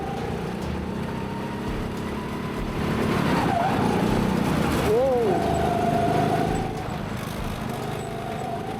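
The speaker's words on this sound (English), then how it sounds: "Judging by the sound of the engine, this car is actually pretty decent" A racing kart engine drones steadily nearby, its pitch rising and dipping as revs change, while someone talks over it.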